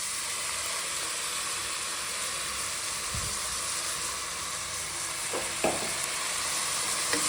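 Ground paste of garlic, ginger, mint, cinnamon, clove and green chilli frying with vegetables for vegetable pulao, a steady close sizzle with a few stirring knocks and scrapes toward the end, no voices.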